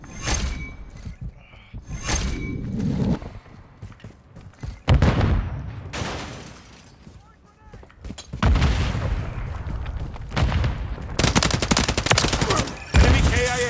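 Repeated bursts of automatic gunfire and loud impacts in Call of Duty: Modern Warfare 3 on the Afghan map during a domination match, close and heavy across the whole stretch, with brief game voices between volleys.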